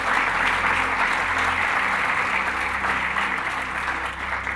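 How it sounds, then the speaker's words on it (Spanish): A church congregation claps steadily and loudly at an Easter service, a sustained wash of applause that holds for several seconds before easing slightly at the end. "Denle un aplauso al Señor"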